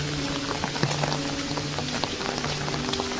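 Heavy rain pours down at the start of a Kokan monsoon downpour, a dense steady patter of drops on surfaces among coconut palms and jungle, with scattered louder splashes throughout.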